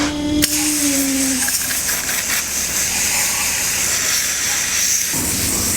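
A garden hose sprays water onto a car air filter, producing a loud, continuous hissing gush up close that holds steady for several seconds with slight changes in tone as the stream moves.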